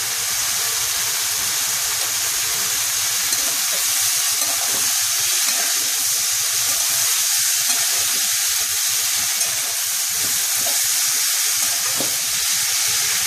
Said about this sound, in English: This is like sauteing the vegetables with the spices.